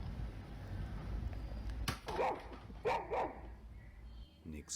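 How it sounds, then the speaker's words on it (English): A dog in a house hallway gives a low rumble followed by two sharp, close barks, with a faint whimper near the end. "dog starts growling while staring down the hallway as if it sees something there"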